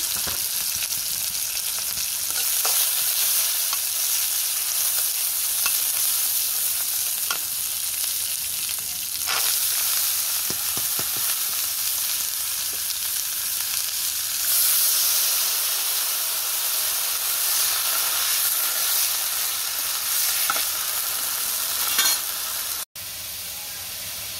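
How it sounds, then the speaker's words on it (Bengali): Potatoes and onion frying in a pan for a potato bhaji, a loud hissing sizzle that holds for over twenty seconds with occasional stirring scrapes, then cuts off abruptly near the end. "লাগিয়ে নিলাম আলু ভাজি করবো পেঁয়াজটা দিয়ে দিলাম"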